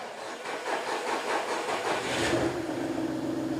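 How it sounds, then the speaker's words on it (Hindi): A Yamaha motorcycle with about 270,000 km on it, kept in showroom-like condition, runs steadily after being started, a quiet, even engine hum close by with no talk over it. "ये देखिए कितनी साइलेंट बिल्कुल इंजन है इसका"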